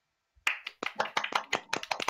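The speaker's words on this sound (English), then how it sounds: "Clap. Clap." A burst of hand clapping, a dozen or so sharp claps in quick, slightly uneven rhythm, close and fairly loud.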